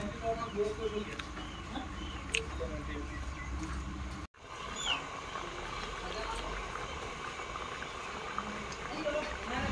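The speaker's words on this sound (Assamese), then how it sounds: "এতিয়া আৰু 10 মিনিট উতলিবলৈ দিম" Pork and jackfruit curry simmering in a pot, a soft continuous bubbling and spluttering heard close and fairly quiet, with a brief cut partway through and faint background sounds.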